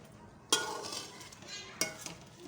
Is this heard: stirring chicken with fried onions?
yes